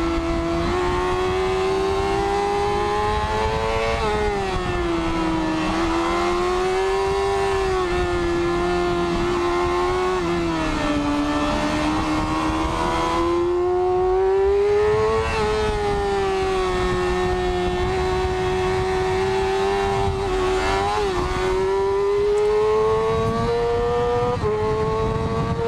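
A motorcycle chasing a McLaren P1 and a Seat Leon Cupra around the Nurburgring, its engine screaming near 14,000 rpm. The close, steady, high-pitched wail rises and dips with throttle and gear changes for the whole stretch.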